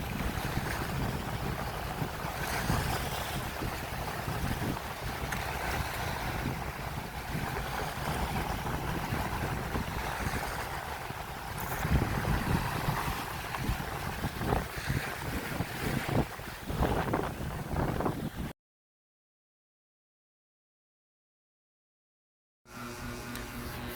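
Strong wind buffets the microphone at sea while rough waves wash and slap around a boat, making a loud, continuous roar. The sound cuts to silence for a few seconds near the end, then the rush resumes.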